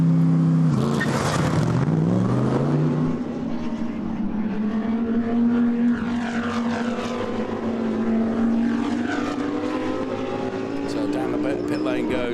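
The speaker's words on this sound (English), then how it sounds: "Maxi Book makes his way out of the pit lane." GT3 race car pulling out of the pit lane at Oschersleben in an ADAC GT Masters race: a steady engine drone that rises in pitch as it accelerates, with a commentator talking over it throughout.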